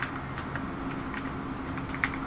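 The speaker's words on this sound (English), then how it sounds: "I apologize if you hear me typing." Steady typing on a computer keyboard during a Google search, a soft continuous patter of key clicks with a few sharper strikes, close and alone.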